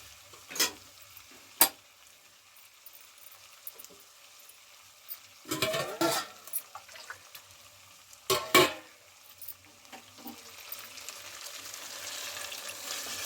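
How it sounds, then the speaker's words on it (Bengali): Fried potatoes stirred into spiced chicken curry in a pan: a soft continuous sizzle broken by several loud, close scraping bursts of the spoon against the pan, spaced a few seconds apart. "আমি আলুগুলো ভালো করে হালকা হাতে নেড়ে চেড়ে নেবো"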